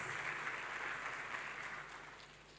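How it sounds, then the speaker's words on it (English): Applause from a summit audience as panelists take their seats, a steady dense wash of clapping heard at a distance and softening slightly toward the end. "Let's give them a round of applause as they take the seats."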